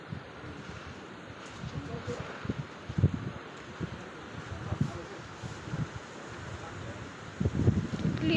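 Strong gusting wind during a windstorm in Darjeeling, a steady broadband roar that surges in bursts and swells louder near the end, with low buffeting on the microphone.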